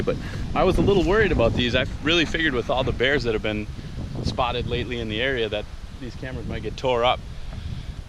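Low rumbling wind buffets the microphone beneath steady, close speech, a constant blustery roar filling the background throughout.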